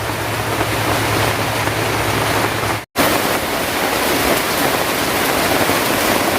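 Heavy rain pouring in a steady broadband hiss, loud and close, with a brief dropout partway through and no voices.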